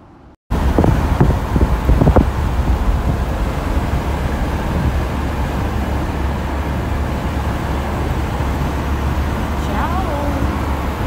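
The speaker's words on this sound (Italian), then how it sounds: "adesso comincia a tirar vento" Wind blowing past a car window in Venice, a loud, steady roaring rush of air with low rumble, preceded by brief talk at the start.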